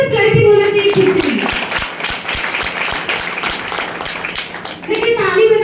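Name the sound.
audience clapping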